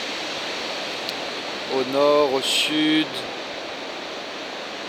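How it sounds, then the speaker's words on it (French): Sea waves washing along a shore make a steady broadband rush throughout, while someone speaks briefly over it. "des vagues partout"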